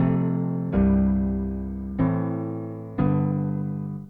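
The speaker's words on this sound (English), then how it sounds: "let's pitch it down an octave and have a listen to how the chords stay exactly the same" Four sustained piano chords sound in a lower, darker register, each struck and allowed to ring and fade before the next, with nothing else heard.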